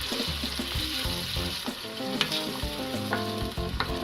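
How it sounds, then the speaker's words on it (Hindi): Water is poured into spiced potato masala frying with green coriander in a pan, giving loud hissing sizzle with repeated scraping and stirring of a utensil against the pot, close and continuous. "अब इसमें पानी डाल दूँगी।"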